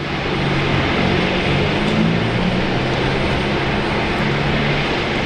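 A heavy Qantas jet arriving from Singapore roars steadily at a distance, a broad sustained engine rumble without letup.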